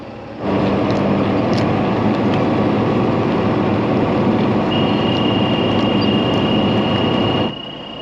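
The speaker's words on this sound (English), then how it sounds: "So that beeping was just my monitor saying that my distance is failed" A corn planter's monitor in a tractor sounds a steady, high-pitched alarm tone for a failed distance reading. The tone starts midway and holds continuously over loud, constant engine rumble.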